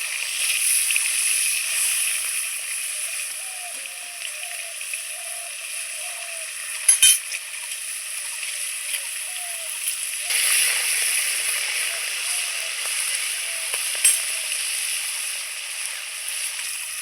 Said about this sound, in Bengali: এইবার আমি এক এক করে খোকা ইলিশগুলো ভেজে নেব